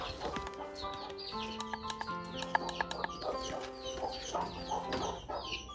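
Chickens on a farm cluck and squawk continuously at close range, several birds overlapping in busy, irregular calls with no talk.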